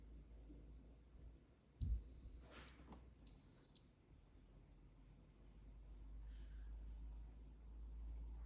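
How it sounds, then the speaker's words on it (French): A quiet room with low hum, then two electronic beeps from a De'Longhi Magnifica coffee machine during a reset: a long high tone followed by a shorter one, fairly faint. "Au bout de 5 secondes, vous allez entendre un bip assez long."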